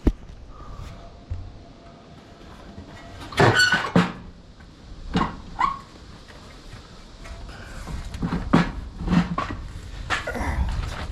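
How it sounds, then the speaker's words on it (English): The rear door of a skid steer is swung open during an air filter change, giving a squeaky hinge and a series of clunks and latch knocks, fairly close, with no talking. "you're gonna come to your back door, you're gonna give it a little open"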